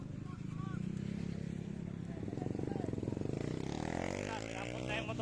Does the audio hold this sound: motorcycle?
yes